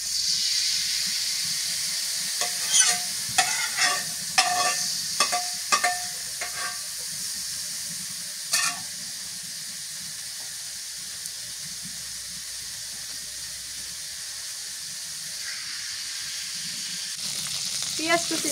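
Spices tempering in hot oil in a home kitchen while a fish curry of mirik fish and cauliflower is cooked, giving a steady close sizzle and hiss with a burst of sharp clinks and stirring scrapes early on.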